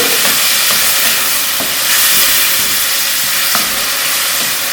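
Half a kilo of chicken mince frying in a pan for a mash daal keema, a loud, dense, continuous sizzle and steam hiss with faint stirring ticks throughout, close up and without speech.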